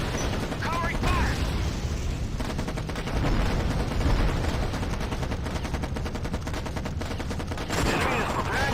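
Sustained covering gunfire in the Act of War: High Treason video game, with dense, rapid machine-gun bursts rattling almost continuously and some brief voices mixed in.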